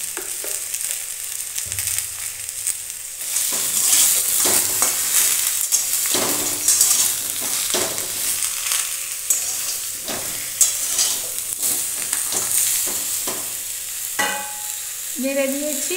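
Pumpkin mash being stirred and scraped in a hot pan on a gas stove, with a steady soft sizzle and repeated spoon scrapes close by. No one speaks.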